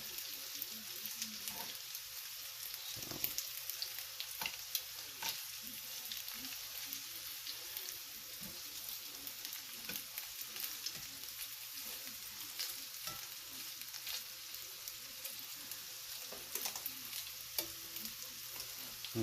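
Homemade meatballs fry in a pan with a constant, soft crackling sizzle, evenly textured and close, with faint pops and the odd light utensil tap, and no one talking.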